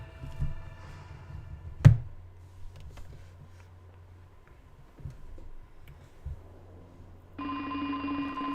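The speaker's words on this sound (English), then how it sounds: "Oh, that's your alarm clock." An alarm clock in an X-Files video game rings like a telephone, a faint repeated bell tone heard among light ticks and knocks, ending in a louder sustained ringing tone near the end, without talk.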